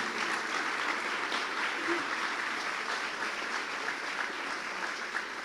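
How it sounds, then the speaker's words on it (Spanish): Sustained audience applause, a dense steady wash of many hands clapping throughout at even loudness, with no one speaking over it. "El aplauso."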